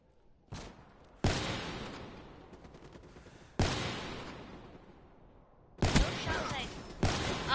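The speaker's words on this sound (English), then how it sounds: "I shot the person I didn't even want to shoot." Gunfire from Black Ops 3 erupts in several loud, sharp bursts separated by gaps, each blast trailing off into a decaying echo.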